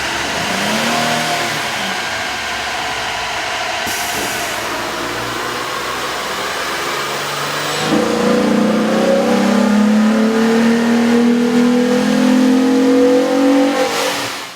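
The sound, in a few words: 2007 Jeep Wrangler 3.8L engine revving on dyno with K&N intake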